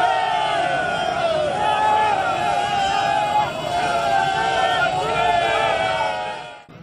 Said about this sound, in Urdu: احتجاج اور نعرے بازی۔